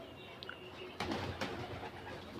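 Pigeons kept on a home rooftop coo softly in the background, a faint low murmur with a couple of brief rustles and knocks nearby.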